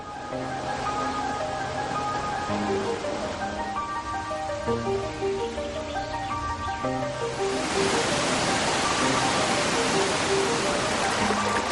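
A waterfall near erosion-formed caves gives a steady broadband rush beneath prominent music, the water swelling louder in the last few seconds.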